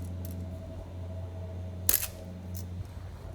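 A pin is forced out of a Billet Technology oil catch can with a screw, pressed against the ground on an 18 Scat Pack Challenger: a single sharp metallic snap near the middle, with a smaller click after, over a steady low engine-like hum.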